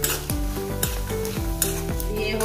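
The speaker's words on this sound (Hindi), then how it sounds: "अच्छे से हिलाते हुए हम इसको तलेंगे।" Stuffed karela (bitter gourd) frying in a pan with dagad phool, a steady sizzle under repeated scraping strokes of a spoon stirring, close and continuous.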